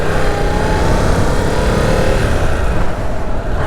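A 2022 Yamaha R7 motorcycle under way, heard as loud, continuous engine and wind roar at steady speed, with a slight easing toward the end.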